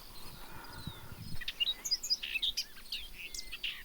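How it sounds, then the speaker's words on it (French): A rock thrush with orange belly and blue-grey head and throat calls on an open limestone causse, a series of short high chirps and whistled notes after a few low knocks, moderately near with no talk over it. "Voilà, merle de roche."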